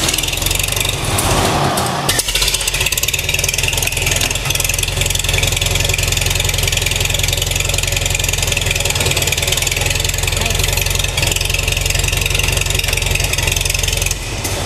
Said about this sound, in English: I'm going to start the tractor up